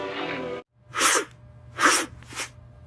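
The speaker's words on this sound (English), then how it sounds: "I sneeze a lot." One person sneezes three times in quick succession, each a sharp, breathy burst close to the listener, after a short voiced sound.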